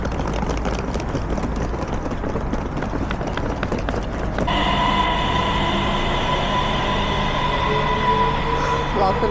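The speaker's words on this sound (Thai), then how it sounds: "รอขึ้นรถไฟไม่ใช่รอขึ้นลิฟต์ต่อคิวขึ้นลิฟต์จ้า" A train at a station rumbles and rattles loudly with clattering wheels, then settles into a steady hum with a faint squeal, while a voice speaks in the background.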